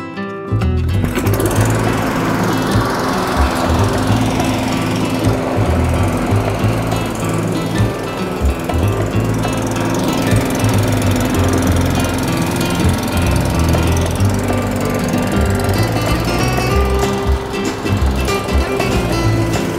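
A petrol lawn mower running nearby, its engine a loud, constant, rough droning roar that carries on steadily and unbroken the whole time.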